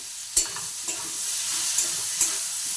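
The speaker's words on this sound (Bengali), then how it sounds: "দেখুন আমগুলো অনেক ভাজা হয়ে গেছে" Mango pieces fry with turmeric, chili powder and salt for a sour pickle, a steady close sizzle broken by a few sharp stirring clinks and scrapes of the pan.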